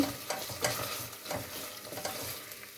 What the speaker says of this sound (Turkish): Bir çorba kaşığı salçamı koydum. O da biraz kavrulsun arkadaşlar.